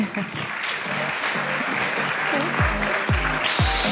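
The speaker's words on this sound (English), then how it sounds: "Please show your appreciation and give them a warm round of applause." An audience at a panel discussion on regulation gives a steady round of applause for the panelists while a voice speaks over the clapping.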